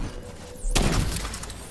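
A grenade goes off in a first-person shooter game, a short sharp burst with a crackling, rumbling tail after a brief quiet lead-in with a rising whistle.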